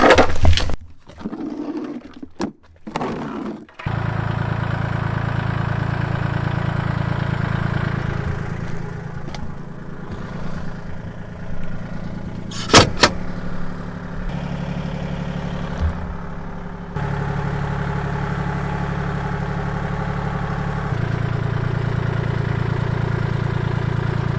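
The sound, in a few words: tractor engine running while pushing a 1994 Ford F150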